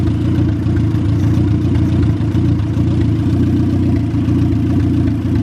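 Turbocharged Honda B16 engine in an EG Civic hatch with several boost leaks and a missing idle mixture screw, idling steadily with a loud, close, continuous low rumble and some clatter.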